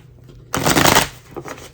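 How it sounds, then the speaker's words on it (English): A tarot deck being shuffled close up, one loud riffling flutter of cards lasting about half a second, followed by a softer second riffle, with no talking. "5 shuffles for Aqua."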